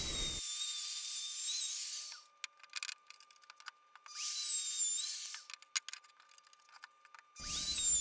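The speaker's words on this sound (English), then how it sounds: "I'm going to add a 45-degree chamfer on the top edge of the feet" A power tool cuts a 45-degree chamfer on the top edge of pallet wood workbench feet in three loud, high, hissing bursts, with quiet gaps filled by faint clicks and handling noises.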